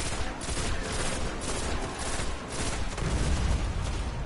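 Gunfire in the video game Destiny, a dense continuous barrage of shots layered over a loud, busy game mix.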